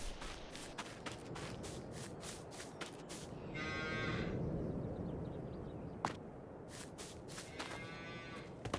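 Cattle in the Farming Simulator 22 game give a drawn-out moo, followed later by another shorter low, amid steady shuffling and footsteps of the herd on a farm with gates, with no talking.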